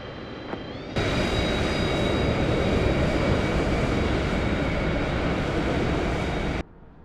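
An airliner in a flight simulator spools up for takeoff, a loud steady jet engine roar with a high whine that starts abruptly, holds for several seconds, then cuts off.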